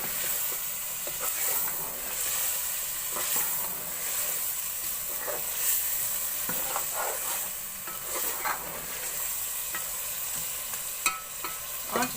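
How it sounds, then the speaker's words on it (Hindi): Mutton being browned with masala over high heat for achar gosht makes a continuous, loud sizzle throughout. Occasional scraping knocks of a spoon stirring in the pot break through it. "इसी मसाले के साथ हम गोश्त को भी भून लेंगे।"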